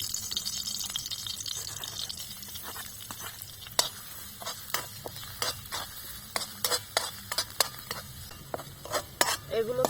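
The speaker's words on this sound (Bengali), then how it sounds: "এগুলোকে আমি এখন লাল লাল করে ভেজে নেব" Chopped ginger and garlic frying in a pan for Chicken 65, with a steady soft sizzle under frequent sharp clinks and scrapes of a utensil stirring against the pan, close by and with no talking.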